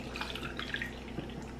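Water being poured into a pot of rice during meal prep, a faint, close trickle with splashy drips over a short moment.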